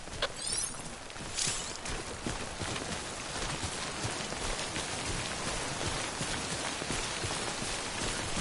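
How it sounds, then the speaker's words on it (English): Steady rain pours down in Death Stranding, a dense, even hiss of drops hitting surfaces that carries on throughout, close and loud with no talk. "Don't stay out in the rain any longer than you have to."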